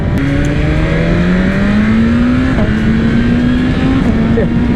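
A 2022 BMW M1000RR superbike engine held wide open at full throttle, a loud, steady high-pitched howl with the pitch climbing slowly through gear changes, close and continuous.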